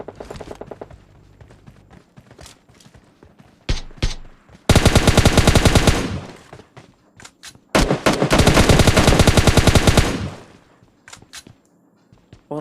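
Gunfire in a battle royale shooter: scattered single shots and short bursts, then two long sustained automatic volleys close and loud, followed by a few more isolated shots, no talking.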